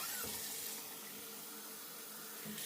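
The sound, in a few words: hot water running from a tap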